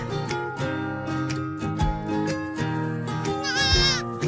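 A goat bleats with a wavering, high cry near the end, set over steady background music that runs throughout.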